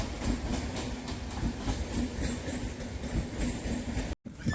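A train rolls past close by on a foggy early-morning road at Rathtala near Ranaghat, giving a steady rumbling wash of rail noise with faint rhythmic clatter that continues through the whole stretch.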